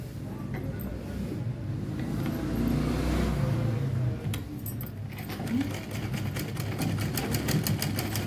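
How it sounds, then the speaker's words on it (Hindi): A sewing machine stitches the shoulder seams of a cotton baby suit, a close whirring motor hum that rises in the middle, followed by a run of fast, rhythmic needle ticks. "दोनों पल्ले को ऐसे रख करके हमने कंधे की सिलाइयाँ करनी होती हैं।"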